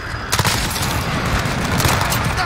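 Sustained automatic gunfire in Call of Duty: Modern Warfare, an MP5 submachine gun firing, dense and loud, with booming impacts layered over a continuous rattle of shots.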